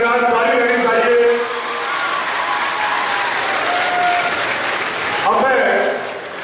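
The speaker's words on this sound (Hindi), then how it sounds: "स्वागत के दौरान तालियों की गड़गड़ाहट जारी रहनी चाहिए।" Applause at a welcome during a political ceremony in Dausa, a broad crowd clapping steadily throughout, easing slightly midway then swelling again near the end, with voices mixed in.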